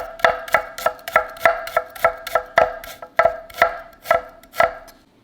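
A knife chops food on a cutting board in a quick, uneven run of about eighteen sharp, close knocks with short ringing tails, loud and alone with no voices.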